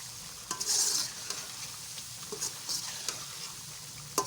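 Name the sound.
chicken and green chilies frying in masala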